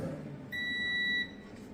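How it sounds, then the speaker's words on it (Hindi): A multimeter's continuity buzzer gives a steady electronic tone once for under a second, clear and close, over quiet room noise. "हम मीटर को लगाएंगे बजर मोड।"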